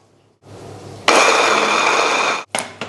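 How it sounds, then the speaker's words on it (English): A food processor whirs loudly as it blends chilies and shrimp paste into a rough paste, starting with a low hum, then a steady high-pitched grind for about a second and a half before stopping, with two short pulses after. "And then we're just going to plop the lid on and blend this into a rough paste."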